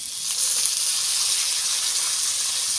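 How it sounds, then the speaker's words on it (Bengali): Zucchini flowers frying in a pan, giving a steady, close, bright sizzle that holds evenly throughout with no talking. "এইবার আমি যুক্তি ফুলগুলো ভেজে নেব"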